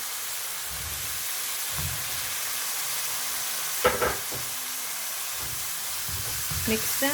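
Spices and chopped tomatoes sizzle in a pan for handi kabab, a steady hiss broken by a few stirring clatters, close, with a voice speaking briefly over it.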